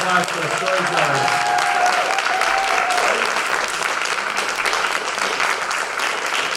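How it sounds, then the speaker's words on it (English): A story-night audience gives the storytellers a sustained round of applause, dense clapping filling the room evenly for several seconds while faint voices and cheers mix in early. "give a round of applause for the storytellers"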